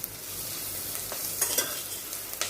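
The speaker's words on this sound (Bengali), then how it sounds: "এই লঙ্কাটা দিয়ে এই গরম মশলাটা ভাজলে খুব ভালো গন্ধ হবে" Garam masala with green chili sizzling and frying in hot oil for a homestyle mutton curry, a steady close hiss with a few spoon stirs and scrapes, no talking.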